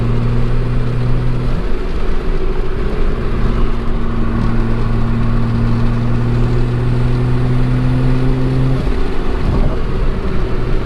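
From inside an R32 Nissan Skyline GT-R with a power upgrade, the engine pulls steadily in fifth gear as it builds turbo boost, a loud, continuous droning growl with a sustained rising tone and no voices.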